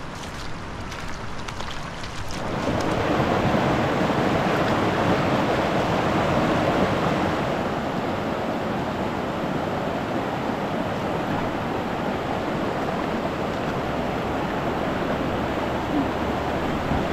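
Waterfalls and river water rush in a steady broadband roar, quieter at first, then swelling to a loud continuous wash that holds unchanged with no voices.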